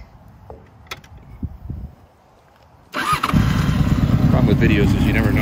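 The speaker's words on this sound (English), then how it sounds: "In a second, I'll just start it up." A 2003 Honda VFR Interceptor motorcycle engine cranks and fires up, settling into a loud, steady idle after a few seconds of quiet handling noises.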